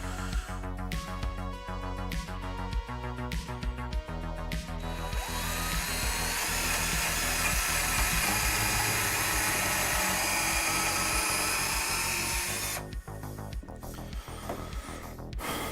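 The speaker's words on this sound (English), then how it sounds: "Holes pre-drilled." Power drill pre-drilling holes while building a workbench, a whining motor in several short bursts followed by one long sustained run, close and loud.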